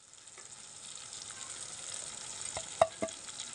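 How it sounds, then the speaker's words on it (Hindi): Ground spice masala of salt, coriander, garam masala, turmeric, red chilli and pomegranate seed fries quietly in a pan, a faint, steady sizzle with a couple of small clicks near the end. "अच्छे तरीके से मसाले को भून लेंगे।"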